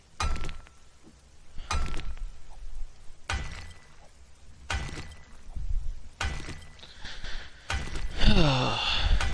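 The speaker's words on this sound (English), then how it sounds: "So let's destroy the brick" Bricks being smashed in the survival game 7 Days to Die, likely with a steel pickaxe: a series of about six sharp, loud shattering impacts at regular intervals, with a crumbling collapse at the end and no talk.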